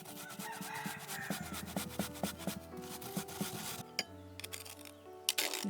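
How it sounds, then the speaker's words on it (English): Ingredients for Korean beef bulgogi being grated by hand, a series of quick, rhythmic rasping scrapes against a grater, fairly close and uneven in pace, with faint background hum and no voices. "Grate it."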